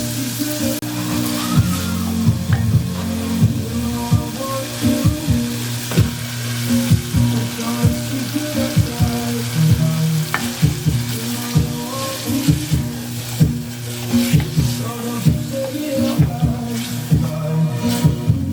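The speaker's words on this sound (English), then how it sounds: "I'm gonna fry them until they become" Pork pieces frying in a pan after being boiled in broth, a steady loud sizzle with bubbling and occasional spatula stirring and pan knocks throughout, no one talking.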